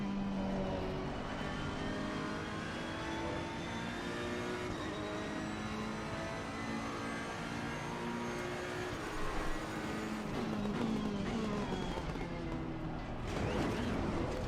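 Race car engine from a racing video game, a steady droning whine held for the whole stretch with slight pitch shifts as it accelerates, fairly faint in the background with no speech.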